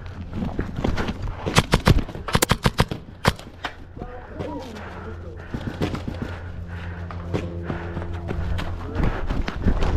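Airsoft guns shooting at Hollywood Sports Park, sharp cracks coming in quick clusters early on and then scattered, near and far, with a voice talking in the background.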